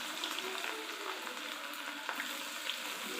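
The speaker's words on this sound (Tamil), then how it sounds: "எண்ணெய் காஞ்ச உடனே சில்லி போடலான்ட்டு ஆரம்பிச்சாச்சுங்க." Cauliflower chilli frying in hot oil, a steady broadband sizzle with faint crackles and occasional pops, moderately close and fairly quiet, with no talking.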